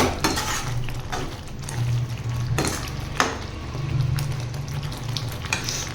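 A pan of Chettinad paneer gravy with crushed fennel and pepper being stirred lightly, giving soft repeated scrapes and clinks over a steady sizzle, close and moderately loud.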